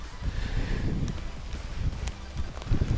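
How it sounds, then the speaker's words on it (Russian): Wind rushes through fir and pine trees in a steady, breathy hiss with low gusty rumbling, no voices. "Ветер такой поднялся, он колышет елку, сосну."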